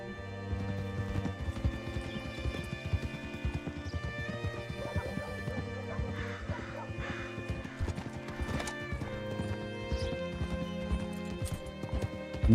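Steady, rhythmic clip-clop of hooves from a horse being ridden in Red Dead Redemption 2, continuous and close for over twelve seconds, mixed with background music and occasional snorts, with a faint voice talking underneath.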